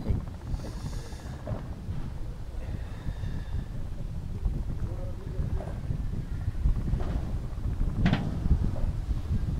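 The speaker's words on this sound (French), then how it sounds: "il y a un vent de malade sur les terrains." Strong wind buffets the microphone with a constant low roar and rumble at an outdoor padel tournament match, while faint voices and occasional distant clatter sit in the background.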